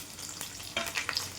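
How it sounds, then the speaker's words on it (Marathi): Carrot, potato and green chillies sautéing in a pan with curry leaves for coriander rice, giving a soft, close sizzle with light stirring scrapes and small crackles over a brief moment. "छान आपल्याला परतून घ्यायचं आहे."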